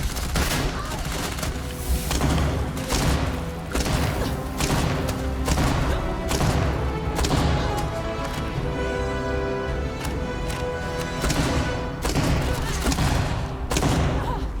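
Dense automatic gunfire rattles without pause in the Starfield video game, with rapid shots layered over heavy thumps and booms during a boss fight. No voices are heard.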